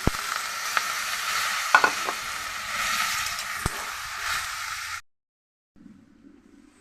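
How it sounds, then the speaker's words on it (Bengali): Boiled vegetables for Bengali shukto hit a hot pan, setting off a steady sizzle with spoon scrapes and clacks while they are stirred. After about five seconds the sound cuts to near silence, then a faint hiss returns. "দিয়ে দিচ্ছি সেদ্ধ করা সবজিগুলি।"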